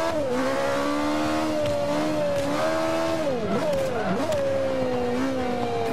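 A race car engine revs hard and continuously in Forza 5, its pitch rising and dipping with gear changes and cornering, loud and close throughout with faint tire squeal underneath.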